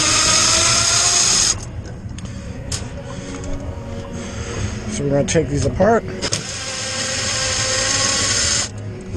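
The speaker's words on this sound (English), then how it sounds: "I have a drill here just to speed it up" A power drill removing Phillips screws from an Azkoyen Zensia coffee machine whirs in two sustained bursts, one at the start and a longer one near the end, with someone talking briefly between them.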